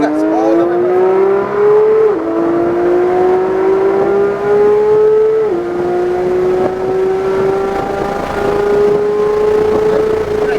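A Porsche 911 GT3 accelerates hard on a race track at around 135 mph, its engine note rising loudly through the gears with brief dips at each shift, close and continuous throughout.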